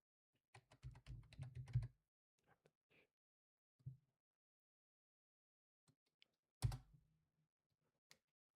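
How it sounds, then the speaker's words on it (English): Someone types a name into a chat on a computer keyboard: a quiet, quick run of clicking keystrokes, then a few isolated taps and a firmer key press after pauses. "I'm gonna try typing your name in the chat, Mesh, and see if that works."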